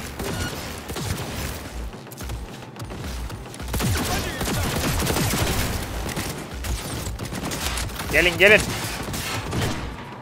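Sustained turret gunfire in the Cyberpunk 2077 game, a dense stream of rapid shots and impacts filling most of the stretch, loud and close, with someone speaking briefly and a short electronic chirp near the end.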